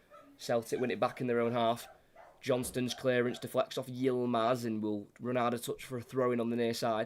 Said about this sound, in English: When there's 3 dogs you've got, once one goes, they all go, and then you can't get them to stop.